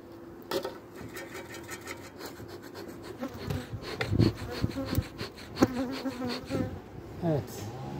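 Honeybees buzz steadily around an open beehive during a February hive inspection, with wooden frames and boxes scraping and knocking nearby as the hive is closed up.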